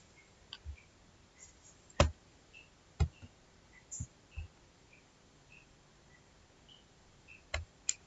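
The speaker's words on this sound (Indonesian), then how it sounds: "Kalau sudah, kita klik OK." Computer mouse clicking an OK button during a statistics software tutorial on normality testing: a handful of sharp, dry clicks spaced irregularly over a quiet background, with two firmer clicks standing out near each other.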